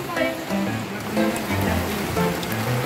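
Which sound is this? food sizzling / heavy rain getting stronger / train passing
heavy rain getting stronger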